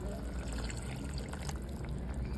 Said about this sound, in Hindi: थोड़ा सा पानी,